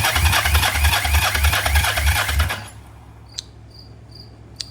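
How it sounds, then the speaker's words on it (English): A 1980 Yamaha XS400 motorcycle's starter cranking, a fast rhythmic whirring chug for about two and a half seconds that stops abruptly, followed by near silence with a couple of faint clicks. "So I'm hearing the starter clutch is working"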